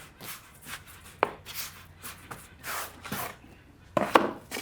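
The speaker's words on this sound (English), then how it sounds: "I'm going to put a tiny bit of semolina on my peel in here, and put that dough on the top" Pizza dough set down on a wooden peel dusted with semolina: soft close-up thumps, pats and light scraping in short irregular bursts, with no talking.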